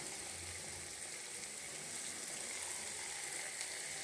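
Batter frying in hot oil in a nonstick pan, a steady close hiss and crackle of sizzling that carries evenly throughout.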